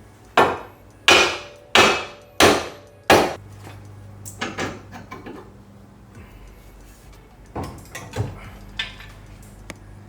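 Hammer whacks on a Honda/Acura lower ball joint during replacement: five loud, sharp metallic strikes spaced about a second apart, then softer scattered knocks and clinks of tools.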